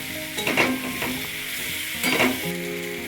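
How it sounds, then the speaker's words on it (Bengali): Kumror chokka, a Bengali pumpkin curry, sizzles in a pan while a spoon stirs it, with two louder bursts of scraping and clatter rising over the steady frying hiss. "এবার একটু কষিয়ে নেব, কষিয়ে নিয়ে তারপরে জল দিয়ে দেবো।"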